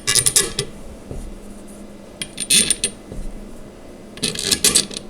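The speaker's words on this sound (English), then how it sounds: "So let's put the bolts through each of these holes." Metal bolts and spacers clink and rattle while being fitted onto a Badger Basket London doll pram, in three brief bursts of small metallic tapping separated by quieter handling.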